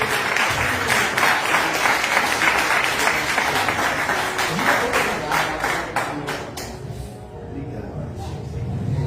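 A church congregation claps and cheers for Jesus during a service, dense applause under a preacher's voice that tapers off toward the end.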